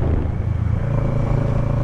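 Kawasaki Z650 motorcycle accelerating hard, a loud, close, rising engine drone with a steady buzzing exhaust note, heard alone without talk.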